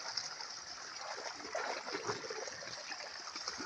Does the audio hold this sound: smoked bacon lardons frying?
no